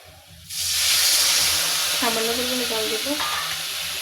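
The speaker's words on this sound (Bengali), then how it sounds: "এখন সামান্য একটু জল দিয়ে এগুলোকে ভালো করে কষিয়ে নিই" Spice paste for an egg curry hits the hot pan with a little water and erupts into a loud, sustained hissing sizzle after a brief quiet start, with a faint voice murmuring partway through.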